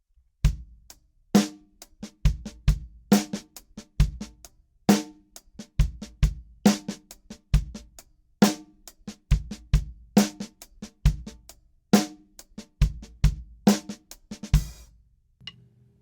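A drum kit plays a steady groove from a song, sharp snare and kick hits in a repeating pattern with quieter ghost strokes between them, close and dry.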